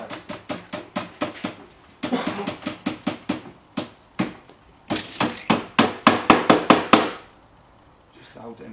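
Hammer tacks being driven into EPDM rubber roofing membrane to hold it in place, heard as rapid bursts of sharp, loud, close blows in quick rhythmic runs with short pauses, no talk.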